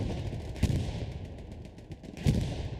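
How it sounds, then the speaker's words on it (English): Artillery explosions and gunfire in the WWII shooter game Hell Let Loose during a competitive match: a steady crackle of distant battle noise, broken by two heavy, booming blasts that stand out clearly, with no talk. "Lots of explosions from artillery coming out."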